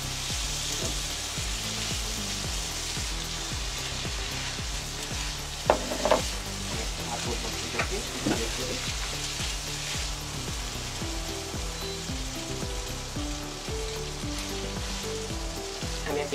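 Fish sizzling in hot oil for a fish curry, a loud, continuous crackle and hiss of frying close by, with a few clinks and stirring bumps in the middle and no talk.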